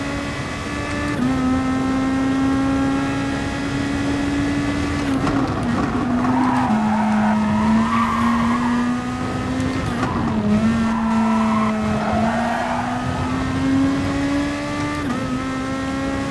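A Gr.2 race car in a racing video game, driven on the Austria circuit with a wheel, revs loudly and steadily through gear changes, its engine note dipping and climbing, with tire squeal and skidding through the curves.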